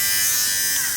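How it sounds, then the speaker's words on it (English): A small handheld electric lint shaver runs steadily for about a second, a loud, continuous high-pitched buzz and whir close to the mic with no talking over it. "This little lint shaver."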